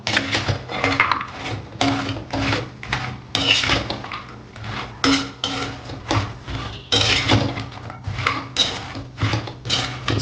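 A spoon scrapes and clanks around a pan full of jaggery-coated wheat-flour sweets, the stirring strokes steady and rhythmic, close and fairly loud, with no talking.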